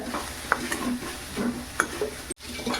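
Grated coconut and jaggery filling for karanji stirred in a pan, with repeated scraping strokes and a few sharp utensil clicks against the pan under a soft background sizzle; no talking.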